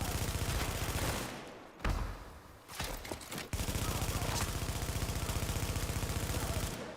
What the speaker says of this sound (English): Who is shooting me from the side?